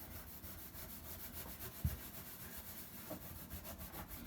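Wet 0000 steel wool scrubbing the inside of an oven, a faint steady rhythmic rasping rub with a soft knock partway through and no voices.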